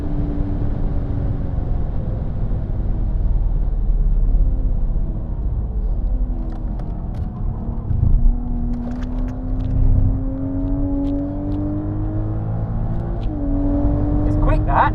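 A car engine rumbles and revs, pitch climbing through gear changes, loud and close, with a few faint clicks and voices underneath.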